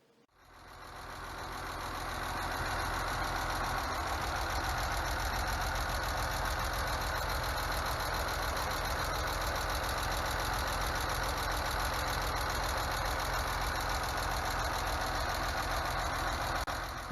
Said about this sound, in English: That sounds like a collapsed lifter.